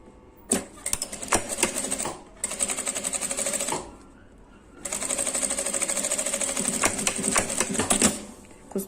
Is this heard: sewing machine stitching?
yes